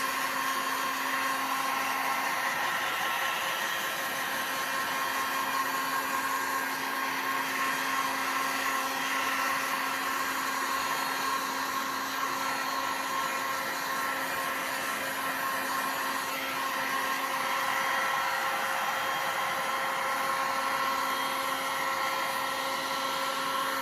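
A hair dryer on its high setting blows steadily over a marble-look resin tray, a continuous whining hum with a constant tone that stays loud and even throughout, with no talking.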